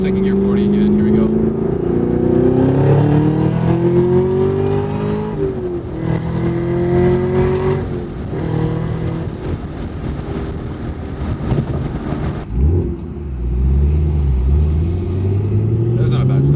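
A 650HP Camaro ZL1 1LE with a manual gearbox pulls hard in second gear, its engine roaring and rising in pitch, then dropping as it shifts, with someone talking over the noise.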